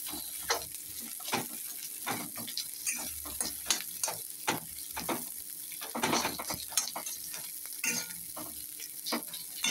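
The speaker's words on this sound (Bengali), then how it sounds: "এবার পেঁয়াজটা ভালো করে ভাজা হয়ে গেলে একটু লাল লাল করে ভাজবো" Onions fry in a pan for a prawn curry with bitter gourd and potato, a soft sizzle broken by frequent scraping and stirring clatters of a spatula against the pan, fairly quiet and without talk.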